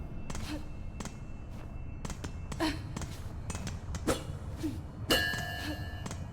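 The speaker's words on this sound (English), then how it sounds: "let's ring the bell" A bell rings at a fast travel station in Hollow Knight: Silksong, giving a series of short metallic dings and clangs at irregular intervals, with a brighter, louder strike near the end over soft background ambience.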